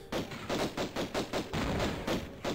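Bursts of gunfire in Tomb Raider Remastered, about eight rapid heavy shots in an irregular rhythm, loud and close with no talking.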